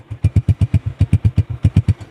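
A 2021-model Honda motorcycle idles at a used-bike market, its single-cylinder engine putting out a loud, even chain of close thumping beats with no talk over it.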